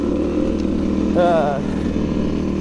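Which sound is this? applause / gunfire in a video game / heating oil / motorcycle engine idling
motorcycle engine idling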